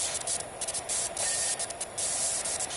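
A pressure washer sprays continuously in PowerWash Simulator, a loud, close, broadband hiss with brief flickering dips as the jet moves across surfaces.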